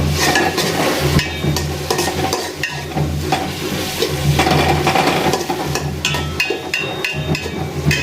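Onions fry in a pan while they are being stirred for a meat dish, giving a loud, steady close sizzle with repeated scraping and clanking strokes of the spoon against the metal throughout.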